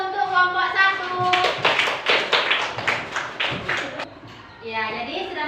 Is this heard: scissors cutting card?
no